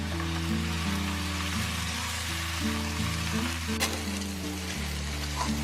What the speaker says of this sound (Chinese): 我要先把这个牛肉炒一炒